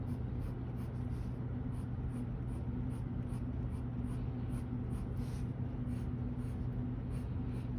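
Steady, soft scratching of a Faber-Castell Black Edition colored pencil shading across paper, continuous and close, with no talking.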